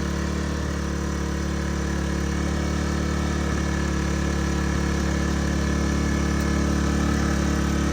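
A Case 580CK backhoe engine idles steadily and close by, a constant low mechanical drone with vibration running unbroken throughout, with no voices over it.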